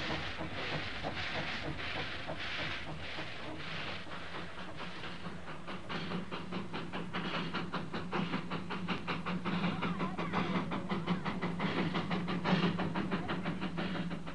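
The Puffing Billy steam tank locomotive in hilly Victoria, Australia, running with a steady rhythmic chuff, hiss and clickety-clack of wheels. The beat quickens and grows slightly louder over time, with no talking.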